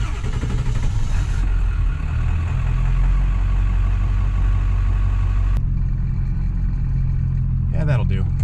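A 1997 truck with a 7.3 Powerstroke diesel turns over cold and settles into a steady, loud, low rumbling idle up close, its tone shifting a couple of times as it runs.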